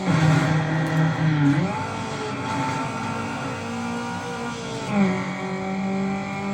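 Game car engine from Need for Speed Underground (2003) drones loudly and steadily, its pitch climbing through gear shifts with a few revving surges, heard alone without talk.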